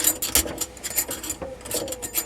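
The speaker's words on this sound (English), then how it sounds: "we're just screwing that nut right on through the already assembled portion" A nut is turned by hand onto the threaded part of an assembled faucet water filter unit, giving close, soft rubbing and gritty scraping sounds in short repeated bursts, with no talking.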